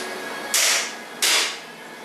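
Two sharp hammer taps on an engine bearing cap, seating it against the block while measuring oil clearance, spaced about half a second apart, close and fairly loud in a quiet workshop.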